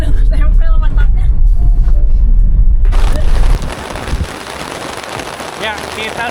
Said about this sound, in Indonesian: Langsung hujan